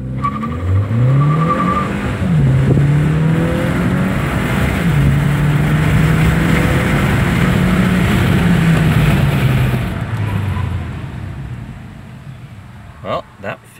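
A 2015 Hyundai Sonata Eco with a makeshift turbocharger intake housing and air filter accelerates hard from a stop to 60 mph, the engine note climbing through several gear changes, loud from inside the cabin, then easing off and fading.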